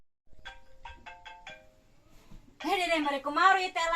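A phone ringtone sounds as a short run of bright repeated electronic tones, fairly close, and then a person starts talking.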